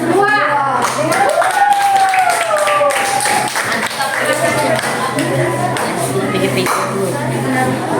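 Classroom clapping for a student group after their presentation, a scattered patter of hands running under steady talking voices throughout.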